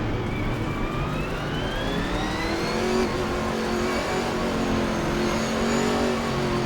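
A Chevrolet Camaro GT4 race car at Donington Park in a racing video game revs loudly and steadily, its engine pitch sweeping upward through gears in a continuous close drone without speech.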